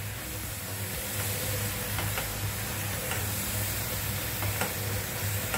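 Mango coconut barfi mixture with milk powder cooking down in a pan, a steady close sizzle and bubbling hiss throughout, with a few faint scraping ticks from stirring, no talk.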